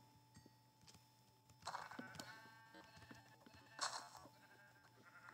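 Sheep bleating in the Minecraft video game, a couple of short bleats rising above a low steady background hum, with no talking over them.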